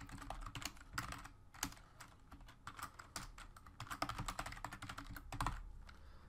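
Rapid typing on a computer keyboard, close and fairly quiet, with irregular bursts of clicking keystrokes running steadily throughout with no talk.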